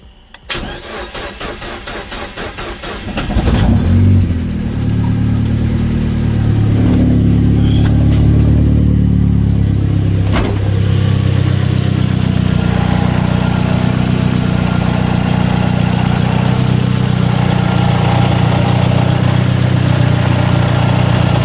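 A turbocharged Mazda Miata with 420cc injectors cranks and fires after about three seconds of starter whir, then settles into a loud, steady idle that runs to the end with no talking.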